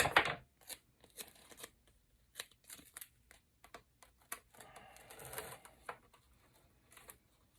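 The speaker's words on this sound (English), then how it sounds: "apply some more double-sided tape to the mannequin head" Double-sided tape pulled and pressed onto a mannequin head, with faint close-up crackles, snips and short rustling bursts that come and go irregularly.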